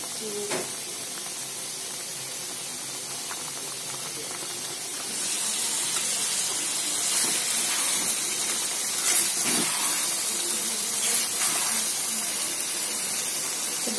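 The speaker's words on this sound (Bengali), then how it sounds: "এইদিকে ইলিশ মাছ রান্না করতেছি।" Hilsa fish frying in a pan, a soft steady hiss that grows louder and more crackly about a third of the way in, with scattered pops and light clinks of cooking utensils.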